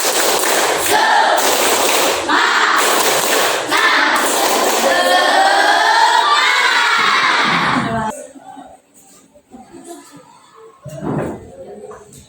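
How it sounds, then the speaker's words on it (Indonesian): A classroom of schoolchildren claps in loud rhythmic bursts while chanting together in unison, then falls quiet as a teacher's voice speaks briefly. "Tepuk semangat."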